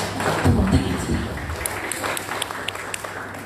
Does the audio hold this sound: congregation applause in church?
yes